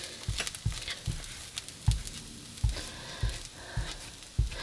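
Egg fried rice sizzles steadily in a pan on medium heat while a spatula scrapes and pushes it to the sides in regular, repeated strokes.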